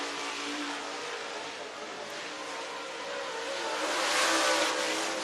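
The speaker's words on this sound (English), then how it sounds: "coming out on the speedway in car number 57" Race car number 57 driven by Zach Mitchell rolls out onto the Talladega Short Track speedway in Alabama for qualifying, a steady engine drone that swells slightly near the end under a track announcer's voice.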